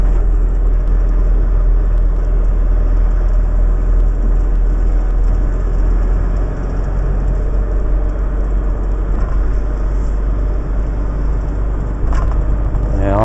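A small delivery truck creeps slowly along a narrow, hilly road, its engine a steady low rumble and whir close to the microphone throughout, with no talk.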